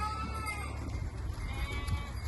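Lambs bleating faintly as they try to suckle from ewes in a village pen, with soft calls heard over a low, steady rumbling background.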